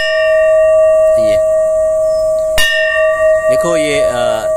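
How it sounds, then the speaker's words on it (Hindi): Metal temple bell with Chinese inscriptions at a Buddhist site, sustained clear ringing tone that lingers throughout, with sharp strikes around the middle and near the end adding bright, layered chimes. "ये घंटी यहाँ पे"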